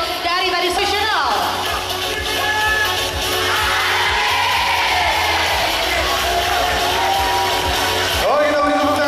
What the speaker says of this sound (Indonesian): kita beri tepuk tangan sekali lagi untuk stage rookie DBL Academy Jogja